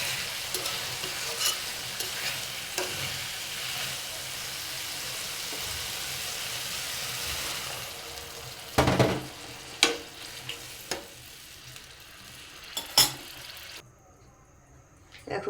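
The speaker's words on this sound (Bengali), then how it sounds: "এখন নেড়ে চেড়ে পানি দিয়ে দিব।" Potatoes and data stems fry in a pan with a constant sizzle while a spoon stirs them, scraping and knocking at irregular intervals in the later half before the frying fades out.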